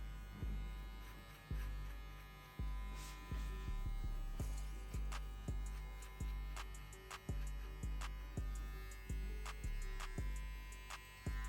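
An electric hair clipper buzzes close up during a fade haircut, a steady mains-pitched hum repeatedly dipping and surging in rhythmic strokes as it passes through hair, with no talking.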